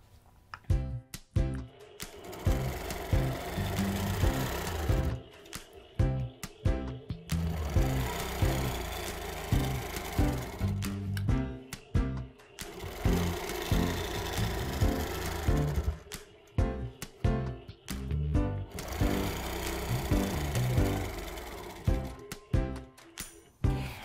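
A longarm quilting machine stitches across a quilt top of small 5-inch squares, giving a steady mechanical whir with rhythmic pulsing that starts and stops in bursts and stays close and fairly loud throughout.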